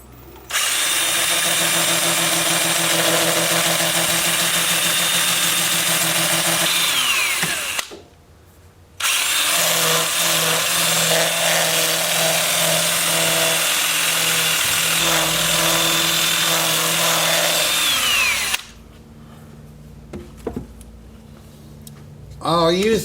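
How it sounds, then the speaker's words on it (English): Power tool sanding a fruitless mulberry wood bowl or vase turning on a lathe: loud steady whirring drone lasting most of the clip, broken by a brief stop near the middle and dying away near the end, with faint knocks after. "Time for sanding."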